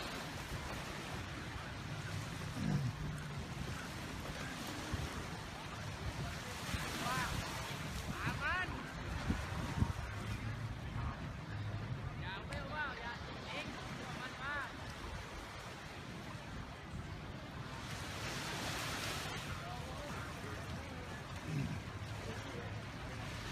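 Waves wash in on a popular tourist beach in Thailand, a steady broadband surge with wind noise buffeting the microphone, while someone talks over it.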